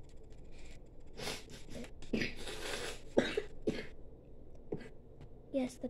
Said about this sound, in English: Yes, that's the cough of a child.